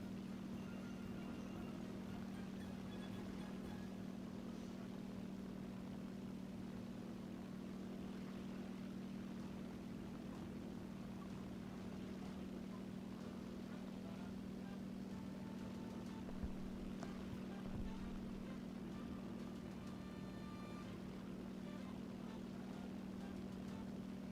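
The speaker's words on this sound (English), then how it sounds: "I hear his engine coming in and out of existence." A vehicle engine in a video game battle hums steadily and continuously at a low pitch, fairly loud and unbroken throughout, with no talking over it.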